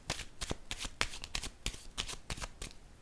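Tarot cards handled and laid down on a table, a quick run of crisp shuffling flicks and soft slaps repeating at close range with no talk.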